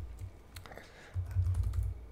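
Soft clicking of keys on a computer keyboard, a quiet, close, irregular patter of keystrokes over a low background hum.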